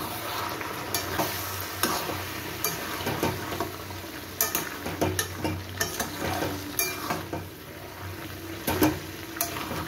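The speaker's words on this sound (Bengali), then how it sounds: "এবার আমি ঢাকনাটা খুলে মাংসটাকে একটু ভালো করে নেড়ে চেড়ে আবার চাপা দিয়ে দেব" Meat frying in a pan sizzles steadily while a spoon scrapes and knocks against the pan in irregular strokes, close and clear with no talking.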